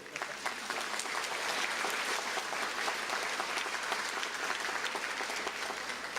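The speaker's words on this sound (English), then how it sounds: "Students and guests, please join me in a round of applause once again for the greatest faculty and Mike Latham in the world." Audience at a 2014 adult high school and equivalency graduation ceremony gives a sustained round of applause, dense even clapping throughout, moderately distant and fairly quiet, with no talking.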